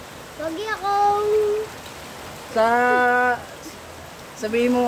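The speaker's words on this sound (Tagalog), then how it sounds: "malakas ang ulan dito sa amin, guys" Heavy rain falls in a steady, continuous hiss that runs through the whole clip, with people talking loudly over it in several bursts.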